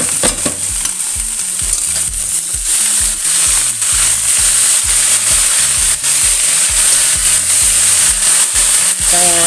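Sliced bitter gourd (pare) goes into a pan with beef and mushrooms and fries loudly, a steady bright sizzle layered with rhythmic scraping stirs of a utensil.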